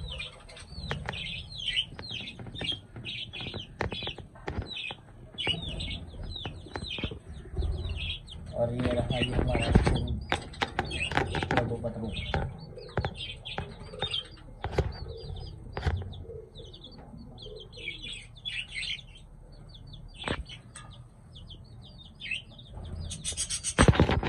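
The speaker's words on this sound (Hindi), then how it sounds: "बजरी तोते।" Pet budgerigars chirp in rapid, high, busy twittering while wings flap in brief fluttering bursts, close by and fairly soft, with some low background noise.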